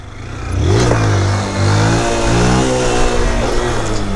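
A 2023 Honda Fan 160 motorcycle engine revs up and holds high, a loud close buzzing drone that rises, dips briefly, then climbs again and stays strong to the end.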